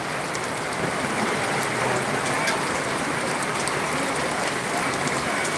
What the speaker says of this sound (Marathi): दंड पाऊस आहे बघा ट्रे वाहत चाललेले आहेत